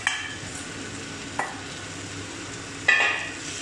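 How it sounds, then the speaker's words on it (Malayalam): Fried potatoes being stirred into okra masala in a pan for aloo bhindi, with a low steady sizzle and two or three brief spoon scrapes, heard up close and without voices. "ഇനി നമുക്ക് നേരത്തെ വറുത്ത് വെച്ച ഉരുളക്കിഴങ്ങും വെണ്ടക്കായിയിലേക്ക് മിക്സ് ചെയ്യാം."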